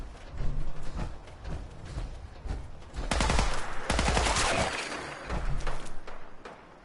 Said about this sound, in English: I hear rockets going off